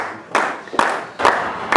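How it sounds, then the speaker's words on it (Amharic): Four short bursts of hand clapping at a farewell and thank-you ceremony, each separate and close by, with no voices over them. "ሞቅ ያለ ጭብጨባ አድርጉልኝ"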